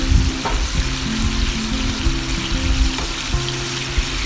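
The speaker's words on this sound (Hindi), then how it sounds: "2 से 3 टेबलस्पून में बस हम इसको फ्राई करेंगे।" Seekh kababs frying in two to three tablespoons of oil, with a steady, close sizzle and spatter running throughout and a few faint clinks beneath it.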